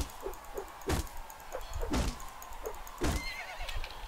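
Horse neighing and whinnying amid melee combat in Mount and Blade Warband, with repeated loud impact thuds and clatter around it.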